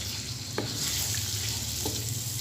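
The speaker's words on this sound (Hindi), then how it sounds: "और इसको फ्राई करेंगे कि ऑयल में।" Steady, continuous sizzling of finely chopped garlic and ginger frying in hot oil, with a couple of faint clinks partway through.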